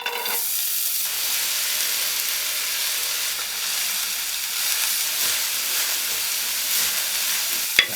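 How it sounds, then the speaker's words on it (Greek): Onions fry in hot olive oil in a pan, making a steady, close, bright hiss and sizzle that holds evenly throughout with no talking. "Μόλις ζεσταθεί το λάδι θα ρίξουμε μέσα τα κρεμμύδια και τα 2."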